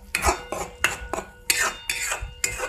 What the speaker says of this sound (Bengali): এবার আমরা মশলাটা একটু নাড়ব।